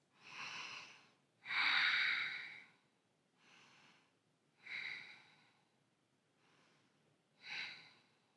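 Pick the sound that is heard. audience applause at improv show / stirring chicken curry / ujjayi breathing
ujjayi breathing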